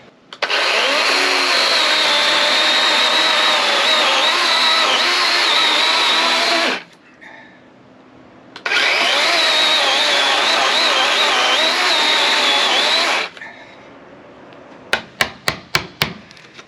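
A power saw bites into a pine log in two long, loud, steady cutting bursts separated by a brief near-silent pause, followed by a quick run of sharp knocks.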